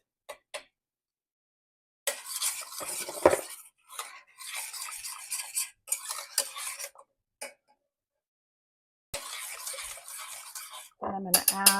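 A spoon stirs brown sugar and a pinch of salt into pumpkin donut batter in a bowl, giving bursts of scraping and clinking against the bowl with short pauses between strokes, close and fairly clear.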